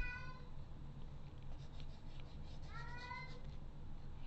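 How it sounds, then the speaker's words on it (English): A pet cat lets out two drawn-out meows, one at the start and a louder one near the end, heard faintly in a room over a steady low hum. "Can you hear my cat?"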